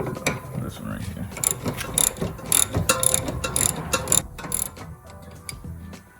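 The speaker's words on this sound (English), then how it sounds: "So we're gonna go ahead and just loosen this bolt right here." A hand ratchet clicks in quick uneven bursts while loosening a 17 mm bolt on a car's suspension during a camber kit install, close and sharp with some metallic clanks between strokes.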